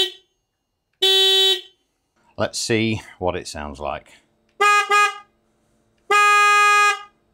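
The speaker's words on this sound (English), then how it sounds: "Okay, so this is the standard horn." The stock OEM horn on a BMW R1300GS motorcycle sounds three loud, steady blasts inside a shed, the middle one shorter, with a person talking between the first and second.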